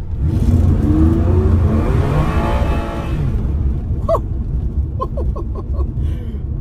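The engine of a Ferrari 456 with a GTA automatic gearbox revs loud and close while its rear wheels spin up on tarmac, building to a rising roar that cuts off after about three seconds, followed by tyre squeaks and rumbling.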